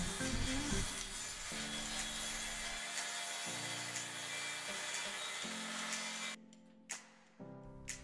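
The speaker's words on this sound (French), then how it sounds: "je place ma règle et je mets un trait de scie" Power saw trimming the ends of wooden planks for a cheap garden shed, cutting in several steady whining passes with short pauses between, ending in a few brief bursts; close and loud, no voices.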